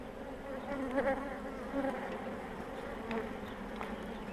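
Honeybees drone in a constant close buzz around the brood frames of an open hive during a spring inspection, with a few louder passes as individual bees fly near.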